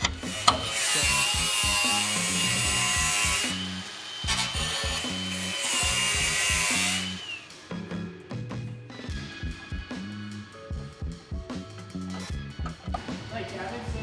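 A sheet steel panel is cut out of a Toyota Supra body with a power tool, sounding as a loud, rasping, rhythmic sawing with repeated strokes that grows busier and denser, then turns more broken and choppy toward the end.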